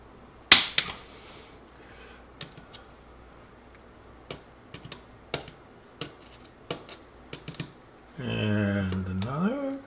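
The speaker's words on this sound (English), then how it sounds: "Just give it a snip." Cutters snip through model railroad track as a series of sharp, isolated clicks and ticks, one louder snap early and several lighter ones spaced irregularly, followed by a sustained mechanical whir at the end.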